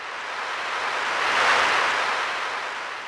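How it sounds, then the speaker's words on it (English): Seashore wave effect from a Donner DEP-20 digital piano: a single synthetic surf wash that swells to a peak and recedes over a few seconds, heard alone. "You hear the waves coming in and going out."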